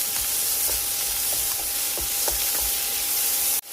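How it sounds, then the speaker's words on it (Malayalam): Steady sizzling of crushed shallots, chillies, garlic, ginger and curry leaves sautéing over low heat in a pan, with soft scraping stirs every half second or so, ending in a brief clatter. "തീ കുറച്ച് വെച്ച് ഇതൊന്ന് വഴറ്റിയെടുക്കണം."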